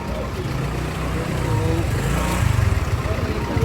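A motorcycle approaches and passes close by, its engine a loud low drone that grows louder toward the end, with people talking over it.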